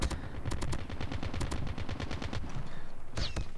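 Automatic gunfire in Call of Duty Mobile rattles in a fast, even stream of close, loud shots for several seconds, followed by a pause and a couple of final cracks.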